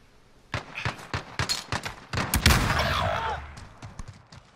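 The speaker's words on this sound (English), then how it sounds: "I put three shots into it" Gunfire in a first-person shooter game: a rapid string of sharp, close single shots followed by a denser burst of automatic fire, then a few scattered trailing shots, with no voices over them.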